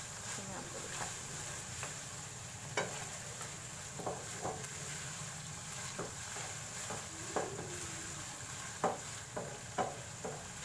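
Keema fries in a pan with garlic, ginger and green chili paste, a soft steady sizzle broken by intermittent clinks and scrapes of a spoon stirring against the pot, with a voice talking quietly over it.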